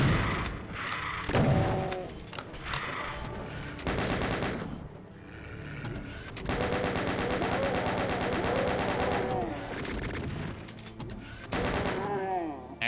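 Rapid machine gun bursts in the Doom game (DSDA-Doom) crackle in repeated loud volleys, alternating with short pauses and other mechanical game effects, with a voice talking over parts of it.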